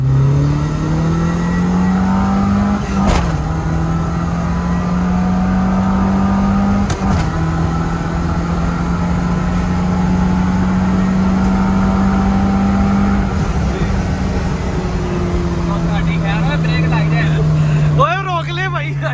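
A car engine held at about 3500 RPM gives a steady high drone for a long stretch, loud and close, with brief clicks and a shift near the end.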